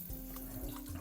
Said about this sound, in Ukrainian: Завжди намагаємося брати такі змішувачі, коли можна витягнути шланг і помити мийку чи якусь велику посудину.